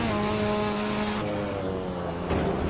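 A tuned Mazda RX-7 FD racing at the Nürburgring in Assetto Corsa: a steady, loud, buzzing rotary engine note that holds high under hard acceleration, then drops and climbs again after a gear change, with no talking.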